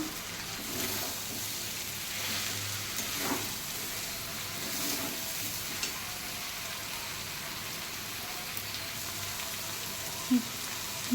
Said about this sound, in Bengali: মাশরুমটা ভালো করে নাড়াচাড়া করে মটর দিয়ে দেবো।